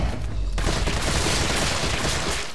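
A CQBR assault rifle fires in Resident Evil 3 Remake, a loud, dense continuous burst of automatic fire that starts just after a brief lead-in and holds for about two seconds.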